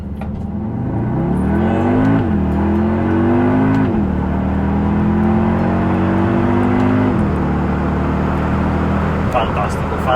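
Audi SQ2 with a 300 hp engine and S tronic gearbox pulls hard in the higher gears, a loud in-cabin engine drone rising in pitch with quick shift dips between pulls, under a person talking.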